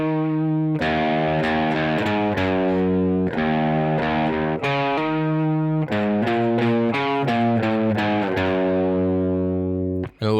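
Electric guitar with distortion plays the riff from a song, a driving run of fast alternate-picked notes and chunky repeated chords, loud and close with no talking over it.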